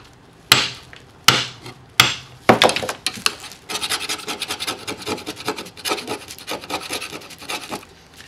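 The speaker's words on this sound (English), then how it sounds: "to sit there and scratch it, scrape on it like that" A screwdriver scrapes and scratches at epoxy primer, opening with a few hard separate strokes and then turning to a quick, steady run of close, rasping scrapes.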